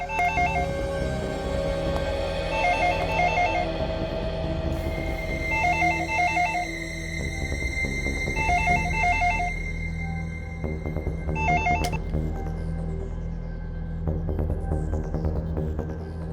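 A telephone ringing in repeated short trilling bursts with pauses between, over a steady background drone and some clattering, in a scene from the TV crime drama CID.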